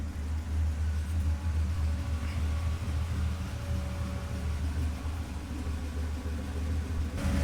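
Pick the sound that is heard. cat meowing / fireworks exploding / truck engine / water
truck engine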